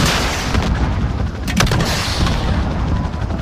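Apache attack helicopter firing on enemy armor in a video game, dense booming explosions and heavy weapon fire rolling together in a loud, continuous barrage with no talk.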